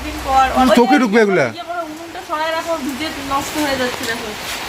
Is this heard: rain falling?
yes